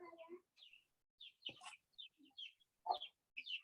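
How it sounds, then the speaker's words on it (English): Birds chirp and cluck in short scattered bursts, with a rooster-like call among them, moderately close against an otherwise quiet background. "Some nice birds sounds coming there."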